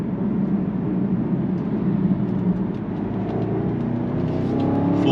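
A car accelerating at full throttle on a straight, its engine a steady, loud, close droning roar that builds in pitch toward the end, with no talk over it.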